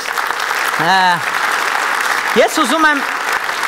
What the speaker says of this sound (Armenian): եկեք ծափահարենք